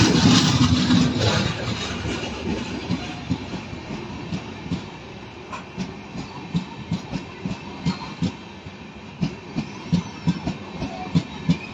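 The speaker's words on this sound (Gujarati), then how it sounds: "આ જબલપુર ટ્રેન અહીંથી નવા સ્ટેશન નથી હવે પસાર થઈ રહી" The Somnath–Jabalpur train rolls through Navagadh railway station nearby, its wheels clacking in a steady rhythm over rail joints, with a heavy rumble at the start easing into repeated clicks.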